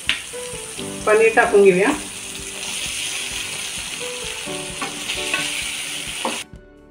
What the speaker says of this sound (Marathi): हे सर्व पनीर आता फ्राय करून घेऊया।